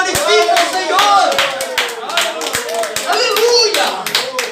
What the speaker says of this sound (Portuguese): a pessoa dá aplauso